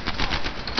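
Enemy machine gun firing from an upstairs window during a Medal of Honor Airborne battle, a dense continuous burst of rapid gunfire lasting under a second with no talk over it.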